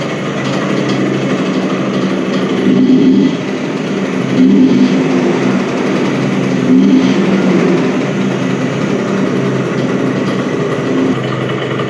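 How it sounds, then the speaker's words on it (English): A Vespa scooter with freshly adjusted tick-over idles steadily close by, a continuous low mechanical purr with slight swells in loudness, heard alone without talk. "The scooter is just sitting there, purring like a kitten."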